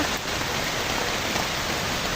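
Heavy rain pours down steadily, a dense, continuous hiss with no pauses or voices.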